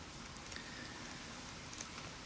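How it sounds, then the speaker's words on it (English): Steady rain falling as a continuous, even hiss with faint scattered drop ticks, fairly quiet and uninterrupted throughout. "Listen to that rain."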